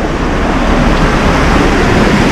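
Swollen Svirka river after rains, a loud steady broadband rush of churning water filling the whole clip with no pauses and no voices.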